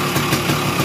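A Yamaha RS 100 motorcycle engine idles steadily after spark plug repair, a continuous close rumble with slight rhythmic pulsing and no talk.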